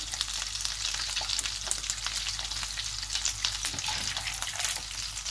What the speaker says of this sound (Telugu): కొంచెం ఈ విధంగా క్రాకులు అవ్వాలండి